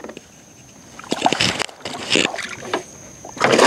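Wind-driven water slaps against the front of a bass boat's hull on a Louisiana fishing trip, several loud, close, irregular splashes and knocks separated by short quiet gaps.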